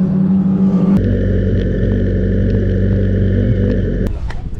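Formula 4 race car at full speed on the Lédenon circuit, a loud steady engine drone with a high whine that holds for several seconds, then cuts off abruptly near the end as the sound changes.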